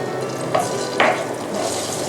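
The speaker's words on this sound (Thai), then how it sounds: "เราก็จะผัดเครื่องแกงนะคะให้หอม" Curry paste stir-fries in vegetable oil in a wok for a spicy fried catfish dish, a close, continuous sizzle punctuated by two quick spatula scrapes.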